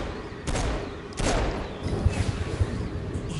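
Pistol fire against an enemy in the Saints Row: Gat out of Hell video game, a few loud close shots with rumbling tails, then a quicker burst of sharp pops, with no talking.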